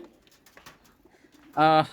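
A single deep, throaty pigeon coo rises near the end after quieter rustling and faint background noises at a market in Mirpur.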